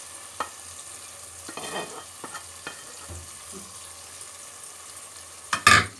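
Minced meat stirred into tomato paste in a pan for içli köfte filling, with soft sizzling under scattered scraping clicks of a spoon and a louder clatter near the end.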